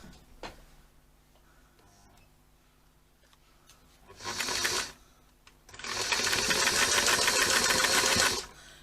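Sewing machine stitching fabric in close-up: a short whirring burst, a pause, then a longer steady run of rapid mechanical stitching before it stops.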